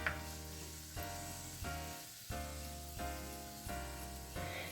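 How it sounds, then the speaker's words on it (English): Low, steady sizzling of Swiss chard stems frying in hot oil in a pan, with a periodic tonal hum and soft bumps recurring about every second. "They should sizzle when you go in there."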